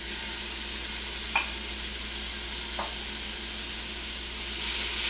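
A roux for corn chowder sizzles steadily in a pan, a constant close hiss with a couple of faint stirring clinks and a brief rise in sizzle near the end.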